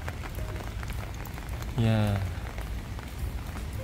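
Rain falling at Atsuta Shrine in Nagoya, a steady soft patter on surfaces throughout, with a man's brief exclamation partway through.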